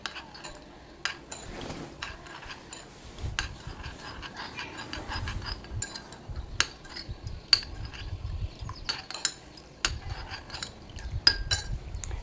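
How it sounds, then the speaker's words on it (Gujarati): Custard powder stirred into milk with a spoon in a pot, soft scraping and light clinks of metal against the vessel, repeated irregularly at close range and fairly quiet, with no talking. "તો 4 ચમચી કસ્ટર્ડ પાવડર નાખી અને એને મિક્સ કરી દેવાનું છે."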